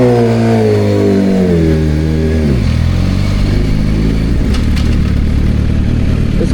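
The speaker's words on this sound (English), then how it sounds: "It's crazy how my bike just started in third, no problem. Started moving and everything." Motorcycle engine revving up and pulling away in third gear, its pitch rising then dropping with shifts, loud and close throughout with steady wind and road rumble, no talking.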